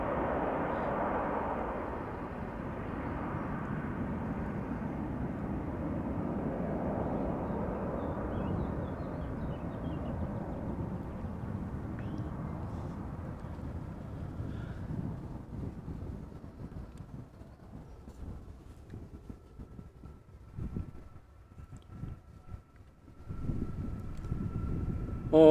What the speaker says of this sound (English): Here, Delta Airlines A330 coming this way.